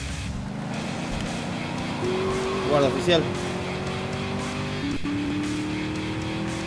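A stolen car in GTA Liberty City Stories revving loudly with a rising engine pitch and brief tire squeals, close and continuous under excited voices talking over the game.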